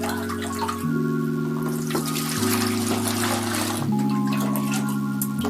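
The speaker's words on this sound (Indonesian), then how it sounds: "Kita tambahkan air." Water trickles and pours into a basin to wash a single flannel shirt, a steady liquid splashing running under sustained tonal background music throughout.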